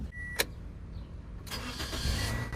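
A car engine cranks and catches after a jump start from a Vantrue POWER portable jump starter, turning over with a short burst and settling into a low idle, preceded by a brief click, close by.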